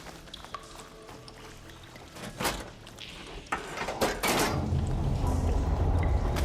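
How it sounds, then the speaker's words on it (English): Water rushing through pipes in the video game Horizon Forbidden West: a few faint knocks and clunks, then a loud, steady broadband rush swells in and holds to the end. "Sounds like the water's switched. Gotta open the valve upstairs. Get that water circulating."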